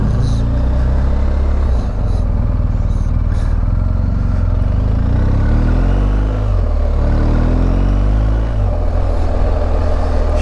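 A BMW R1250GS motorcycle engine in Alaska: loud, close, steady rumbling drone with the pitch rising and falling as it revs, continuing without pause for about ten seconds.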